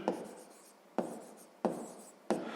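A pen writes out math values by hand on paper, making short scratchy strokes in four distinct bursts, close and quiet in an otherwise silent room.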